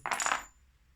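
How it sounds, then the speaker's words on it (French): Small charms drawn for a reading are dropped together, making a brief cluster of light metallic clinks and rattles close up that dies away within half a second. "On va tirer quelques breloques."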